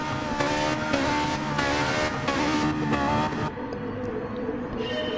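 Race car engines from the Daytona USA video game rev and roar together at the start of a race, loud, steady and dense for a few seconds before dropping away to a quieter engine drone, with no talk over them.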